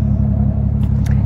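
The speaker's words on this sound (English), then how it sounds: "I am running a Greddy exhaust on this car." A car's engine idles with a steady, deep rumble through a brand-new Greddy exhaust, loud and close, with a faint high hiss flickering above near the end.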